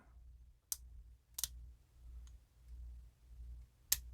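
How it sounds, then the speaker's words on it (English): A Paclock 90A-PRO padlock gives a few faint, sharp metallic clicks as its pins are picked, spaced irregularly over a quiet low hum. "There we go, good click."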